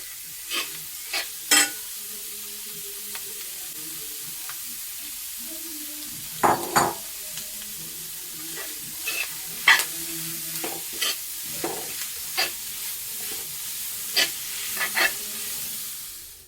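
A pan sizzles steadily while a spoon scrapes and stirs the clam masala in irregular bursts, with occasional sharper clinks against the metal.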